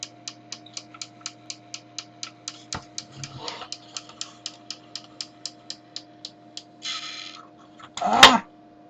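A Fisher Price record player's mechanism clicks in a steady, regular ticking, close and distinct, while being oiled. Faint creaks and handling noises come in between the clicks, and a brief louder rustle rises near the end.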